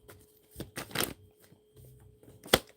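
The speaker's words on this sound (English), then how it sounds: "I'm gonna pull 3 tarot cards and see what it is" Tarot cards shuffled and pulled from the deck: soft riffling and sliding bursts, close and fairly quiet, ending with one sharper snap of a card.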